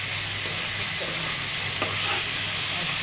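Pointed gourd pieces with green and dried chilies, garlic and onion fry in a pan, giving a steady close sizzle with a faint scrape of stirring partway through and no talking.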